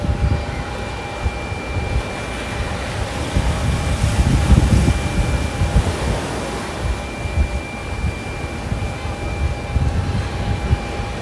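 A JetBlue airliner lands at Maho Beach, Sint Maarten, with a broad, steady roar of jet engines and wind that swells slightly in the middle and holds for about eleven seconds, with no voices.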